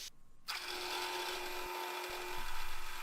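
A steady, high-pitched machining whine runs throughout, with a constant tonal hum beneath, as a milling machine cutter takes a full-depth pass through metal.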